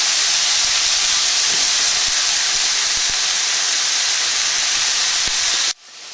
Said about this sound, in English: the moisture that's in the frozen peppers will help these to steam